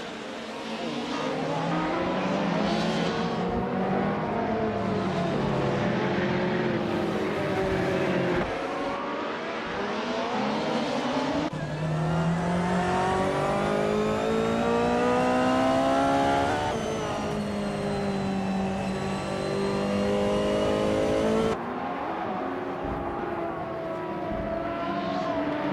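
Race cars roar continuously with engines revving and shifting pitch as they accelerate and pass, a loud, dense motor din throughout with occasional sweeps, no voices.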